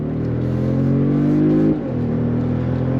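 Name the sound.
2025 Mercedes-Benz G550 engine accelerating on throttle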